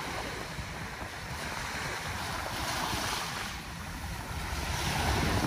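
Sea waves rolling in at Dolomite Beach on Manila Bay, a soft continuous wash of surf with gentle swells and some wind rumble, heard at a distance and without voices.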